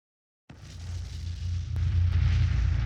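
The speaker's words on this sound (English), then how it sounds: "What a nuclear bomb explosion feels like." Nuclear bomb explosion in played footage: after a moment of silence a deep roaring blast rises suddenly and keeps building into a sustained low rumble, loud and alone without speech.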